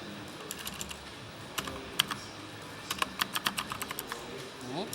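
Rapid typing on a finicky computer keyboard at a Classic Tetris tournament, sharp clustered clicks growing denser toward the end, with faint speech and room noise underneath.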